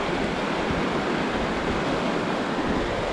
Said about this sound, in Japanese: 川が流れてて橋がかかってます。